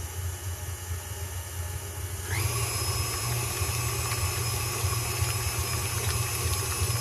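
A stand mixer with a paddle attachment beating peanut butter frosting starts up with a steady motor whine and droning hum that continues evenly, with no talking.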